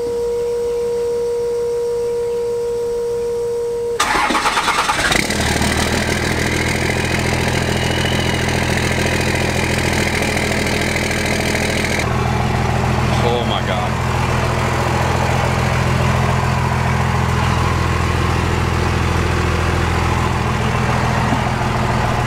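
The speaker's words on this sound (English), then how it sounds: "Let's do a cold start." A large Cummins diesel engine in a second-generation truck cold starts, cranking and catching, then rumbles loudly at a rough idle, with the revs settling and a brief rise partway through.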